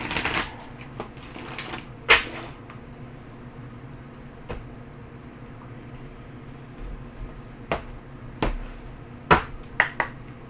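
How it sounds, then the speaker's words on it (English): Tarot cards being shuffled and tapped, with soft riffling early and scattered sharp snaps and clicks later, close by and without talk. "let me give these one more shuffle here."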